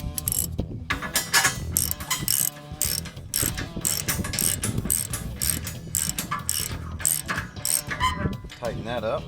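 A ratchet tightening a bolt on a John Deere JD450 crawler, rapid clicking pawl bursts in quick uneven runs, close and fairly loud, with short pauses between strokes and light metallic clatter.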